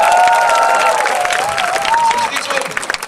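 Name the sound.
audience applause at a military concert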